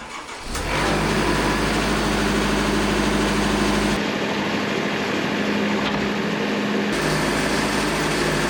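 A diesel engine powering a sawmill runs steadily and loud from start to finish, a constant close mechanical drone with a shift in tone partway through as a log is set up for cutting boards.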